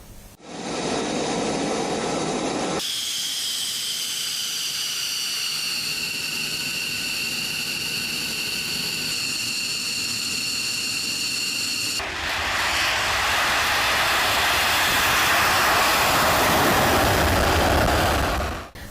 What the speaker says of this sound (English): They have released a video of the planes taking off.